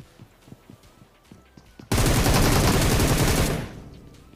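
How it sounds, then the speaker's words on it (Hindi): Random gunfire in Battlegrounds Mobile starts after soft scattered clicks: a loud, dense burst of automatic fire lasts about a second and a half, then cuts off into a fading tail. "मैं ऐसे रैंडम फायर देता हूँ"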